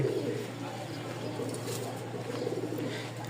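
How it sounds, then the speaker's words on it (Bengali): Pigeons coo at a busy pigeon market in Mirpur, Dhaka, soft repeated throaty calls close by over a constant murmur of crowd noise. "আমি আগে নটটার ডাক দেখাবো আপনাদেরকে, যে আসলে কবুতর কি সুন্দর ডাকে"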